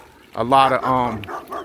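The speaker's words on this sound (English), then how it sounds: "excuse the dog that's barking" A dog barks somewhere near a roadway, partly masked by someone talking over it.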